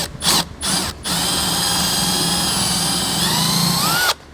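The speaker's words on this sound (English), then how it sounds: "we're going to take a 3/8" drill bit and we're going to drill a hole in that grommet" A power drill fitted with a 3/8-inch bit bores through a rubber grommet on a 2013 BMW 3 Series, running loud and close in a few short starts and then one sustained whine before it stops.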